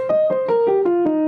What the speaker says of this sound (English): It's called a pentatonic scale. It sounds like this if you do it in the major key.